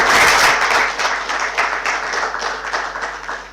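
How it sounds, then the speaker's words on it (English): Loud applause from an audience at a team presentation, dense clapping strongest at the start and thinning slightly as it continues. "Can we have a big round of applause for them?"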